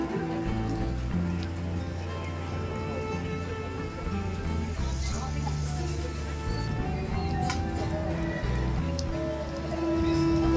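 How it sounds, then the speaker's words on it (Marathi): Scattered rain falls during a pre-monsoon shower in Wai, a soft, steady patter heard faintly throughout. "तुरळक पाऊस सुरू होता।"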